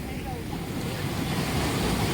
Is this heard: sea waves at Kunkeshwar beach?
yes